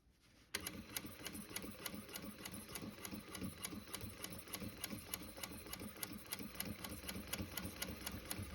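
A sewing machine stitches the fly of a garment in a fast, steady mechanical run of rapid needle strokes, close and even, with no talk.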